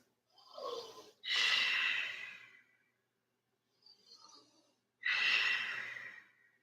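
Slow, deep breaths during a yoga flow, a long inhale and exhale followed by a softer breath and another full exhale, close and quiet with silence between them and no talking.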